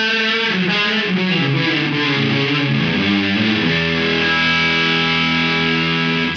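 Electric guitar through a Safari Pedals Dirty Dog overdrive reverb plugin, a thick distorted chord wash with heavy lingering reverb, loud and continuous without speech.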